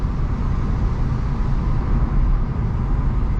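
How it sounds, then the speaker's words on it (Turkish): Constant broadband tire roar and road rumble inside a Hyundai i20 Elite Plus with a 1.4-litre 100 hp naturally aspirated engine while driving, a steady, fairly loud wash of noise with no talking. "Hatta rüzgar sesini bastıran bir lastik sesi var. Yol salınım sesi var şu an araçta."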